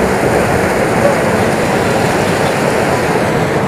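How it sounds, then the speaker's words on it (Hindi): Floodwater on the Kamla river rushing out beneath a closed gate, a loud, continuous broadband roar like heavy surf, steady and close for the whole stretch with no speech over it. "ये जो फाटक है यहाँ पर आप देख रहे हैं कि फाटक बंद है, तो इसके नीचे से पानी निकल रहा है यहाँ पर"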